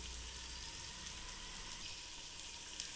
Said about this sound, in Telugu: ఈ అల్లం వెల్లుల్లి పేస్ట్ కొంచెం బాగా వేగాలండి.